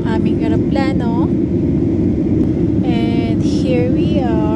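Steady, loud broadband roar of an airliner cabin just after takeoff on a flight to the Philippines, constant throughout, with a child's and adults' voices talking over it.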